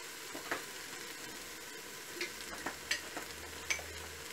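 Pepper and turmeric powder are stirred into browned beef in a frying pan for Kerala beef biryani, a soft steady sizzle with faint scraping strokes of the spoon scattered through it.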